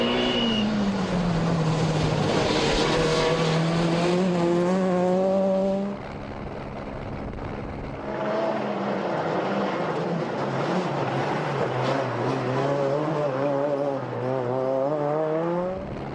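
A Peugeot rally car charges through a special stage of the Sibiu Rally in Romania, its engine note rising and falling in loud pitch sweeps through gear changes, easing off briefly midway before revving hard again.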